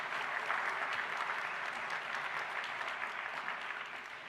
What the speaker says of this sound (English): Let us have a round of applause for those wonderful voices.